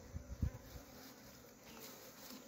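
Wild bees swarm around a hive, a faint, steady insect buzz running throughout with a few brief louder bumps near the start.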